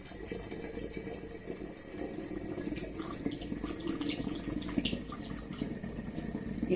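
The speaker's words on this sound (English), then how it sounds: "Now I'll put the other grape juice in when I get the top off." Grape juice for home wine making is poured from a bottle into a vessel, a steady close splashing and gurgling flow of liquid that continues for several seconds and grows slightly louder toward the end.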